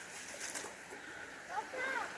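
Water splashing and sloshing as a dog runs through it, a short burst of splashes with a voice speaking over it.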